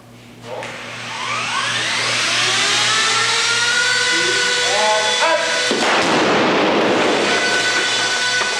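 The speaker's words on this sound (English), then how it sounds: "The explosion is impressive" A special-effects explosion of a miniature model sets off a loud rushing roar that swells and sustains with crackling debris, accompanied by rising whooshing effects and a steady hum underneath.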